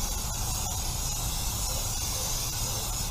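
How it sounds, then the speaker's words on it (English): Brake cleaner sprays onto a car's brake rotor in a steady, close, unbroken hiss that lasts the whole moment, with no speech. "give it a nice spray."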